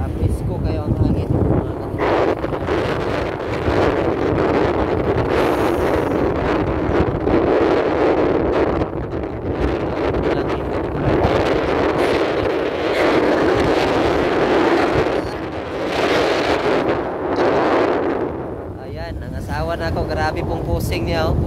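Strong wind at the sea buffets the microphone in a steady roar, with a broad rushing noise throughout and occasional gusts; faint voices may sit beneath it.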